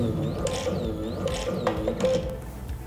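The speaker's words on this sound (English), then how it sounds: "now the calibration is starting. It is important that the pump does at least 200 strokes during calibration" A ProMinent beta/X diaphragm metering pump strokes during calibration, giving a steady run of close mechanical clicks and ratcheting pulses over a constant low hum, with no voices.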